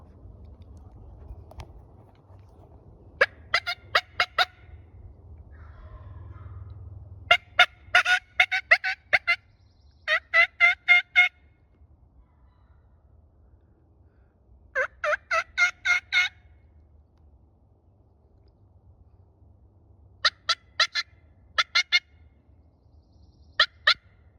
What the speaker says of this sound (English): those guys are in there gobbling their heads off